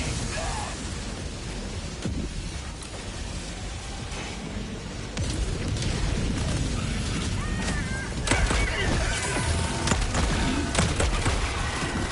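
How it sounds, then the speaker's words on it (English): Napalm barrage pounding the ground in the video game Helldivers 2, a dense, continuous roar of rumbling blasts and crackling fire, loud and close, growing heavier toward the end. "I'm gonna drop a napalm barrage."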